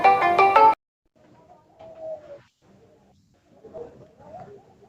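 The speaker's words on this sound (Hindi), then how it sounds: "चारू भैया का फोन आ रहा था" A mobile phone rings loudly for under a second at the start with a harmonic electronic tone, then stops, leaving only faint scattered background sounds.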